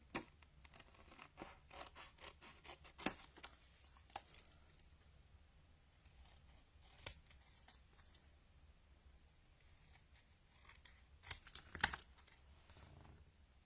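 Scissors trim around the edges of a stamped card, a faint series of small snips and paper scratches scattered across the stretch, close but quiet with no talking.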